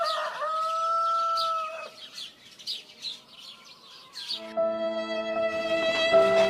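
A rooster crows in a long drawn-out call, then clucks and chirps among other fowl. Steady tonal ringing joins near the end, all fairly close and clear.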